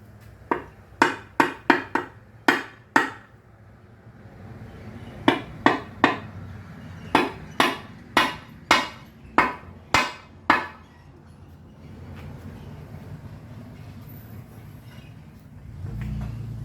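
Hammer blows ring out on a Ford Ranger 2.5 L engine during teardown, about a dozen sharp metallic strikes in two quick bursts, loud and close, followed by quieter handling clatter.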